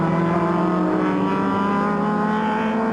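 Touring cars race at Pukekohe in 1994 New Zealand competition, including a Ford Falcon, a Holden Commodore and a BMW. Their engines drone loudly and continuously, blending into one sustained, close roar.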